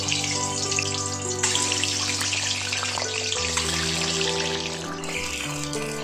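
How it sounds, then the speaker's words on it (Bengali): Boiled duck eggs fry in hot oil in a wok, a loud continuous crackling sizzle that holds steady throughout, close up with no talk. "এবার ডিমগুলোকে ভেজে নেব"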